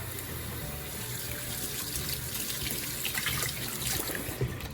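A kitchen sink tap runs steadily while hands are washed after handling eggs during banana bread baking, a continuous close splash with no talking.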